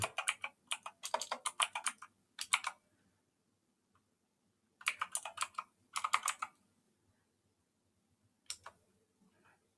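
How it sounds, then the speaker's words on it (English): A password typed on a computer keyboard: several quick bursts of crisp, close key clicks separated by pauses, ending with a few isolated taps, quiet and with no talk over them. "I just type in Fedora's password."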